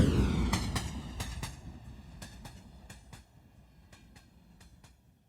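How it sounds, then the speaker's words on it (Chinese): A super fast train sound effect rushes past, starting loud with a heavy low roar and rhythmic wheel clatter, then fading steadily into the distance as it pans from right to left. "这里有一个叫做 super fast passing train， 快速通过的火车这么一个预设值"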